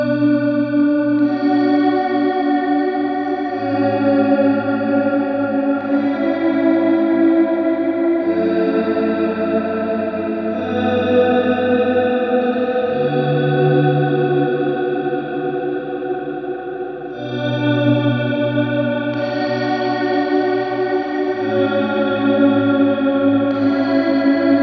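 An electric guitar runs through a Meris Mercury7 reverb pedal, producing lush, sustained ambient swells with long shimmering tails and layered chordal washes, steady and loud with no speech.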